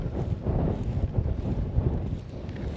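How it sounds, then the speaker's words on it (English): Strong wind gusting across a marsh and buffeting the microphone, a continuous low rumbling roar with uneven surges, loud and close, no voices. "It is super windy today."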